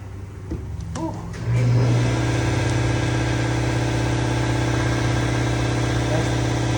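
An air compressor kicking on in a garage during a subwoofer box build for a 2015 Chevy Silverado, jumping into a loud, steady motor drone after a few light knocks.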